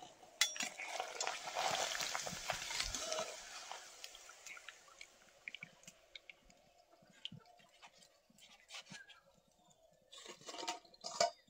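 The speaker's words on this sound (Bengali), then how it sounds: "এবার পাঁপড়গুলো ভেজে নেব" Papads fry in oil in a pan with a quiet, crackly sizzle, louder at first and then thinning out, with scattered light clicks and scrapes of a utensil.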